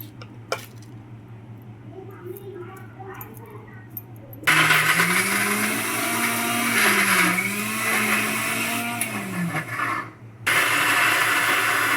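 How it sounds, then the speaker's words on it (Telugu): A mixer grinder starts up and grinds peanut chutney with a loud, steady whirring roar, then briefly cuts out and restarts after quieter kitchen sounds at first. "చక్కగా మెత్తగా మిక్సీ వేసేసుకొని పోపు పెట్టేసుకుంటే అయిపోతుంది చట్నీ"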